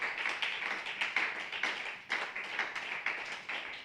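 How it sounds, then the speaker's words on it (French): A church congregation claps in acclamation to the Lord, a faint, fairly even run of hand claps with slight surges, heard from some distance. "Une acclamation au Seigneur."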